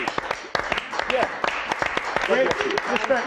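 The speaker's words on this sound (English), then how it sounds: "Give a round of applause" An audience applauds on a Friday night entertainment show, steady scattered claps running throughout while people talk over them.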